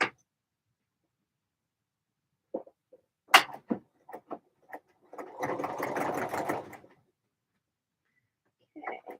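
A sewing machine stitches shoulder seams in one steady run of a second or two, preceded by a few clicks and handling noises, moderately close and alone with no talk.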